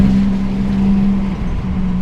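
Maserati MC20 sports car engine droning at a steady pitch from inside or close by, loud and continuous with a slight dip near the end, no voices.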